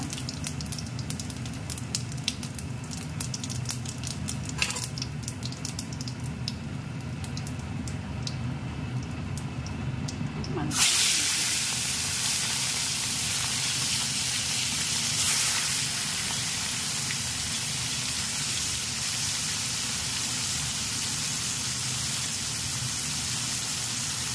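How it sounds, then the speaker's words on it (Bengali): Cumin and bay leaf dropped into hot oil for a prawn do piyaji burst into a loud, steady, close sizzle that crackles on after a quieter stretch of faint kitchen sounds. "জিরা তেজপাতা ফোড়ন দেবো। তেলটা গরম হয়ে গেছে ভালো করে।"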